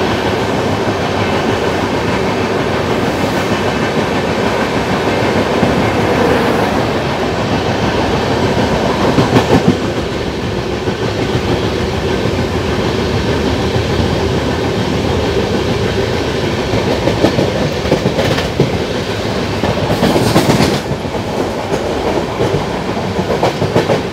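Hyderabad-Jaipur Special express train running through forested country between Akola and Itarsi, heard from inside with a loud continuous rolling roar and steady clickety-clack of wheels over rail joints.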